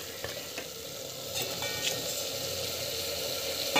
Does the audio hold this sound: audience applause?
no